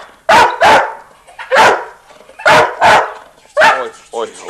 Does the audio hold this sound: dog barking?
yes